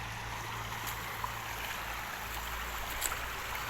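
A shallow river flows and trickles steadily, a soft continuous babbling with a faint low hum beneath it and no voices.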